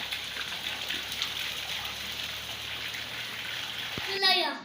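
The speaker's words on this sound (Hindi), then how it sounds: "बाहर जो है बारिश लगी हुई है" Steady rain hisses continuously, a dense wash of falling water with faint voices underneath, then a brief clatter near the end.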